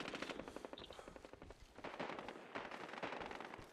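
Rapid automatic gunfire in the video game Medal of Honor Warfighter, with rattling machine-gun bursts and sharp shots running almost continuously, heard faintly and at a distance.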